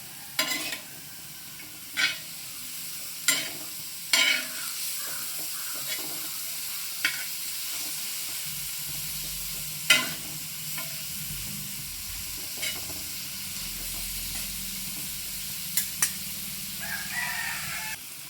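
Chicken sukka with capsicum and carrot fries in a pan, a steady sizzle running throughout, broken by repeated sharp clinks and scrapes of a ladle stirring against the metal.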